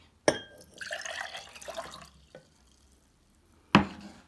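Water splashes and trickles briefly back into a jug, about 200 millilitres, with a sharp knock at the start and another clatter near the end, no voices.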